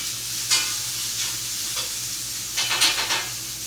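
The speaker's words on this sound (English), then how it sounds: "Our bacon is cooking up nicely here." Bacon sizzles steadily in a pan, a close continuous crackling hiss with occasional louder pops and spatters.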